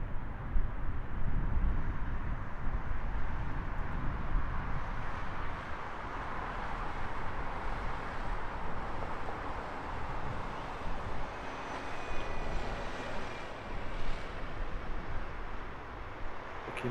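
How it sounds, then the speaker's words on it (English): British Airways A320neo airliner landing at Heathrow on arrival from Bucharest, a faint, distant, steady jet rumble and whoosh sustained across the whole stretch, with no talk. "Looking at British Airways flight 879 A320neo, about to touch down from Bucharest"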